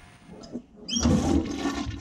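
A toilet flushes with a sudden whoosh of rushing water that rises sharply after a short quiet lead-in and keeps gurgling loudly to the end.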